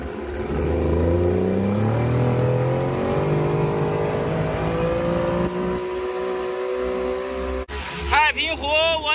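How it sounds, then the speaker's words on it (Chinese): A speedboat engine drones loud and close while crossing Taiping Lake, its pitch climbing and sweeping as the boat accelerates and then easing off near the end. "这个快艇呢，就是快哈，这一下就到了。"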